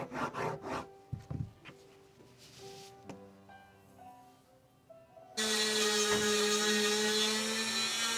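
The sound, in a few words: rust eraser rubbing rust spots off a tsuchime knife blade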